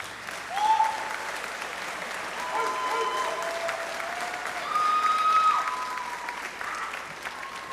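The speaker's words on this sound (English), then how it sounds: "please give this staff a round of applause" A school graduation audience applauds staff with steady, sustained clapping from a large crowd in a hall, swelling twice, with scattered whoops and a few voices mixed in.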